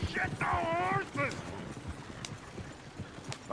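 Horse hooves clip-clopping in Red Dead Redemption 2, a quick rhythmic trot heard under a man's speech and mixed with other game sounds, with a short whinny-like tone near the start.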